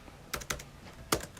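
Computer keyboard typed on while entering C++ pointer code: three crisp, close keystroke clicks, two in quick succession and one a moment later, over a quiet room.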